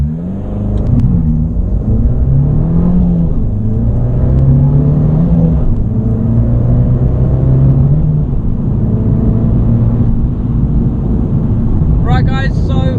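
A 2017 Abarth 595 Trofeo's engine drones loudly from inside the car while driving, with a rumbling tone that rises and falls, joined by wind noise and a voice talking over it.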